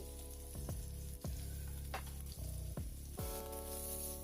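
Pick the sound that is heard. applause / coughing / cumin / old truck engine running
cumin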